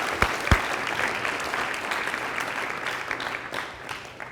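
An audience claps for a host at a lecture on Christian faith and sports, beginning with a couple of sharp claps and then settling into steady applause that slowly fades.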